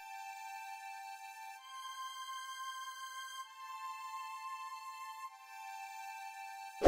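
Sustained synthetic string tones from an X-Band preset called Solo Island hold long notes, shifting pitch a few times, steady and moderately soft with no other sounds.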